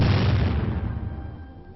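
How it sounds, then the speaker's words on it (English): High-velocity shells striking a tank armor plate weld during M-48 Patton armor testing: a loud, close boom with a deep rumbling body that slowly decays over nearly two seconds, with no voices. "Later, high-velocity shells are fired at the weld itself."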